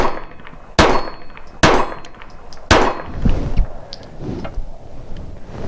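A compact single stack Sig 9mm pistol fires three sharp, loud shots about a second apart outdoors, each with a short ringing decay, followed by quieter handling clatter and faint clicks.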